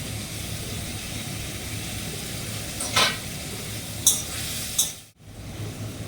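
Spices fry in a pan with ginger, cumin and green chilies, giving a steady low sizzle with a few brief scraping stirs and a short dip near the end.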